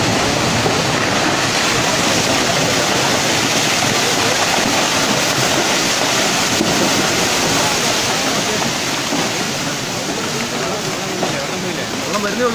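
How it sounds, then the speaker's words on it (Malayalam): Floodwater from a landslide surges down a hillside in Kerala, a loud, continuous broadband roar of rushing water with no breaks, close and dense throughout. "വെള്ളം വരുന്നേ ഉള്ളൂ ഇതാ മേലെ വരുന്നേ ഉള്ളൂ"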